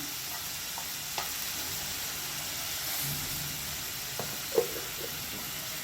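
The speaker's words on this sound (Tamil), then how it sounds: "தக்காளி நல்லா வதங்கி வரும்." Tomatoes sautéing in a pan with a steady close sizzle, broken by a few soft clicks and one sharper spoon tap near the end.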